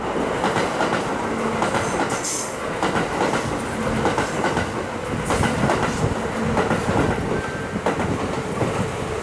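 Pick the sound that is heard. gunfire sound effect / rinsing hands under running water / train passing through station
train passing through station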